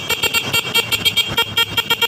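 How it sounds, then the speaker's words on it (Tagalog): A small electric bike horn beeps rapidly and repeatedly in a quick, even rhythm, loud and close, a string of short bright honks. "Malakas na. Busina na ito eh."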